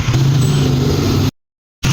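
A tricycle's motor drones steadily while riding, a loud close rumble with road noise that cuts off abruptly to silence before resuming.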